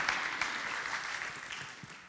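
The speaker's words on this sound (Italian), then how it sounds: "Un applauso anche per il terzo ospite" An audience applauds to welcome a guest onto the stage at a crowdfunding event, a continuous wash of clapping at moderate distance, fairly quiet and even throughout.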